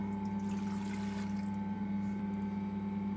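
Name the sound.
water pouring into a dough kneading machine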